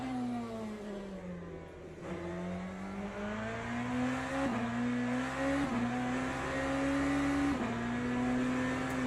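Race car engine in the Le Mans Ultimate video game at Interlagos or Portimao, a steady loud drone rising in pitch through the gears, dropping sharply on several downshifts, with no talk.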